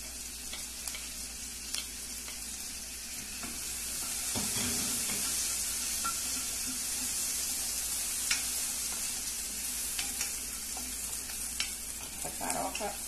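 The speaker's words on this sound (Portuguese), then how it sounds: "Agora a cebola já está quase frita, fritinha. A gente já vai colocar logo também os dois dentinhos de alho bem picadinho." Onion and garlic sizzle steadily in a pan with bacon while cooking a Christmas farofa, a continuous close crackling hiss with occasional stirring scrapes and pops, no voices.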